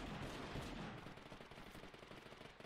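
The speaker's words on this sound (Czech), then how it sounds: "Někdo po nás střílí." Gunfire in the battle-royale game Totally Accurate Battlegrounds, a fairly faint burst of rapid shots fading into scattered pops with no voices over it.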